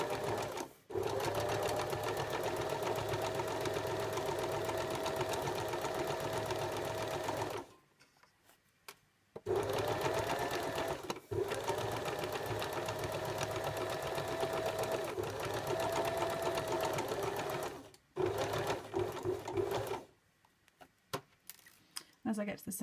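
A domestic sewing machine stitches a Peter Pan flat collar onto fabric, running in long steady bursts of rapid whirring with two brief pauses between runs, close and clear with no talking.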